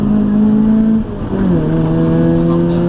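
A car accelerates out of a tight turn on a driving course, its engine droning loudly and close with a steady tone that dips briefly before rising again in pitch as it pulls away, with no voices.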